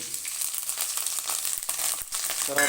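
Curry leaves fry in hot oil for a spiced potato fry, giving a loud, steady crackling sizzle that runs throughout with brief dips and no talking.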